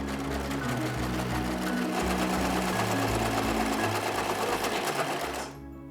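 A sewing machine stitches fabric in one loud, continuous close-up run with a steady mechanical hum and rapid needle rattle, stopping abruptly near the end with no talk.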